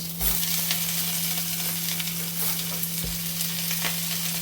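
Cauliflower and broccoli stir-frying on a grill, giving a steady loud sizzle with a constant hum beneath and a couple of brief thumps, no voices.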